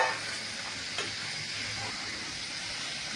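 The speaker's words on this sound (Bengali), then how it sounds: "মাছের ঝোল ফুটে গেছে, এখন মাছ দিয়ে দিব। ভেজে রাখা মাছ দিয়ে দিব।" Fried rupchanda fish dropped into a boiling fish curry with potatoes and tomato, giving a steady close sizzle and bubbling hiss that runs throughout, with a brief splash near the start.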